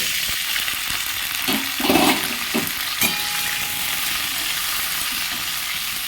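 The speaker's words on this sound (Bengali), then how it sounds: "কড়াতে তেল দিয়ে দিলাম এতে কিছু সবজি আমি দেব কপি ফুলকপিটা ভেজে নেব" Cauliflower pieces fry in hot oil in a kadai, a steady sizzle broken by a few louder bursts and clatters as they are stirred, with no speech.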